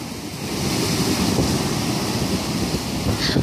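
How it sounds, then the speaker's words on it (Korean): Ocean waves break steadily on a quiet beach, a continuous full wash of surf with rolling surges and some wind, with no voices. "지금처럼 파도가 치는 한적한 해변에서"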